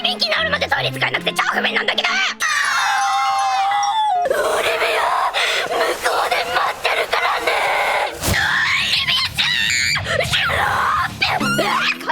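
An Asobi Asobase anime voice actress screams and wails in high, strained bursts over background music, the shrieks rising and falling across most of the stretch with a few breaks.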